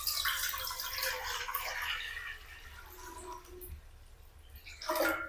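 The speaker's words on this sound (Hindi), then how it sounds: "इसके अंदर खुला पानी शामिल करेंगे।" Plain water poured into a cooking pan while making degi-style palak aloo, a steady rushing splash that runs through the whole stretch, fairly close and loud, with a brief stronger gush near the end.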